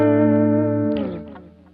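A guitar chord runs through a regular digital delay pedal, ringing clearly before fading into softer repeating echoes.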